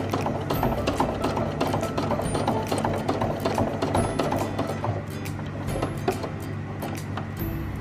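A sewing machine stitches through webbing at a steady, rapid mechanical chatter that runs without a break, close and fairly loud with no talking.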